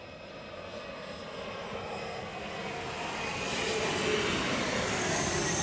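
A CRJ regional jet at Chicago O'Hare during stormy weather, its engine noise a distant rushing drone that slowly builds louder over several seconds, alone without talk.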